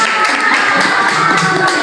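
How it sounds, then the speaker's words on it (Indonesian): A crowd applauds at a Father's Day school talk in Makassar, a dense and loud burst of clapping that carries on for the whole short stretch. "Tepuk tangan."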